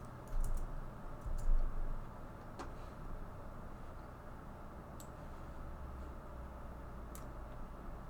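Quiet typing on a computer keyboard, with scattered soft key clicks, a couple of slightly louder bursts early on, over a steady low background hum and no talking.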